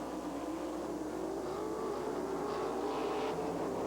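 Stock race cars racing around a track, their engines blending into a steady, distant droning roar that continues without pause.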